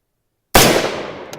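A single AR-15 rifle shot cracks loudly at close range after a moment of silence, then rings out in a long decaying echo across an outdoor shooting range.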